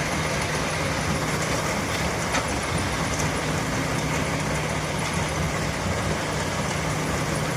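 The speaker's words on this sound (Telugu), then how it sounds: "లారీ అన్లోడ్ అవుతుంది" Lorry unloading material directly onto a running conveyor belt at a loading site, heard as a steady, loud mechanical rumble and engine drone with continuous broadband noise throughout, no voices.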